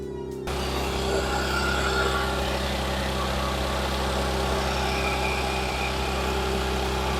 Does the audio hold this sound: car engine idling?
yes